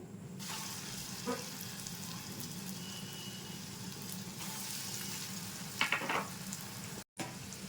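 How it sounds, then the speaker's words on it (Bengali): Egg-and-flour snacks fry in a pan of oil with a continuous close crackling sizzle, occasional stirring clatters, and a louder burst near the end just before a momentary dropout. "বাকিগুলো একে একে ভেজে নেব।"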